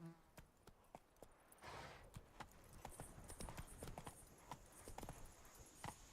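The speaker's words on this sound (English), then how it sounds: "Whoa there, Roach." Hoofbeats of the horse Roach in the video game The Witcher 3: Blood and Wine, a quick, regular clip-clop that starts sparse and then speeds into a steady gallop, fairly close and clear with no talk over it.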